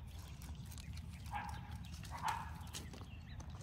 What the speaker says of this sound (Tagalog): Tahol-tahol si Dali doon.